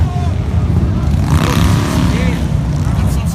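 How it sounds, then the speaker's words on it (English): Motorcycle gang driving down the far side of a road at a protest, engines revving loudly in a continuous low rumble that swells as the bikes pass, with a voice talking over the noise. "All they're doing so far is driving down the other side of the road and revving their engines."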